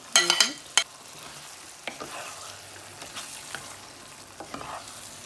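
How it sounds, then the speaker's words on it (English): Aubergine fries in oil while a utensil stirs and scrapes against the pan, giving sharp clatters at the start and scattered scraping knocks over a soft, steady sizzle. "Fry at least 10 to 15 minutes again, slowly."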